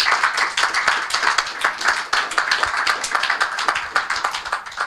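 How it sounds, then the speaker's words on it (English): Listeners at a community mapping event give the speakers a round of applause, loud and close, with individual claps distinct in a busy, slightly uneven patter. "I want a big round of applause for the speakers."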